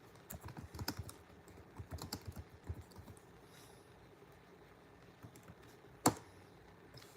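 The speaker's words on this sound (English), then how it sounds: "Y'all know I'm typing mad as hell." Fast, close typing on a computer keyboard: bursts of rapid key clicks that thin out into scattered taps, then one loud isolated clack near the end.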